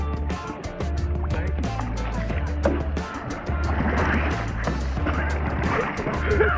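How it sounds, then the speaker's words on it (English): Rowing a boat on water during a warm day out, with rhythmic splashing and knocking of oars close by, steady throughout, mixed with low engine-like rumble and brief voices. "Row the boat."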